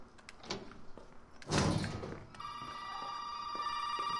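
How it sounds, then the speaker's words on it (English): A telephone rings in the Resident Evil 7 video game: a steady electronic ring sets in after a loud door-like thud and rumble, continuing clearly to the end with no talk. "Phone call."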